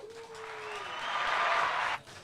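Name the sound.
crowd applauding guest Grant Williams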